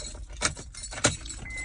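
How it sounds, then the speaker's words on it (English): Car keys jangle as they are pulled from the ignition of a parked stick-shift car, two brief metallic clinks standing out over a low idling hum inside the cabin. "I'm cutting my car off, and I'll take my keys out."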